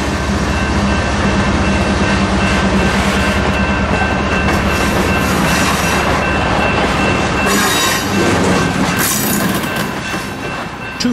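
A CSX M200 freight of auto racks and manifest cars rolls past close by, a continuous loud rumble with wheel squeal and flange screech rising in bursts near the end.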